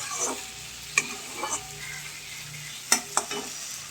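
Egg curry gravy being stir-fried until thick and dry, with close sizzling and several sharp spatula scrapes against the pan at irregular intervals.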